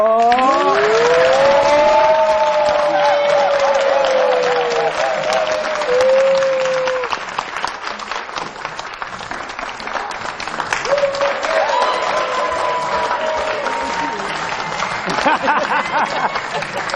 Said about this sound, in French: Jérôme, qu'on va applaudir très fort.